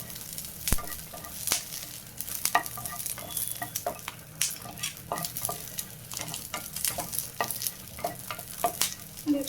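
Food sizzles in a pan while a utensil scrapes and taps against it in frequent irregular strokes, close up and continuous, without talking.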